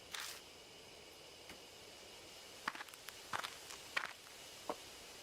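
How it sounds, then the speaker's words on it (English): Footsteps moving through bushes close by, a handful of soft irregular crunches and rustles that grow more frequent toward the end, alone in a quiet setting. "I hear the footsteps again."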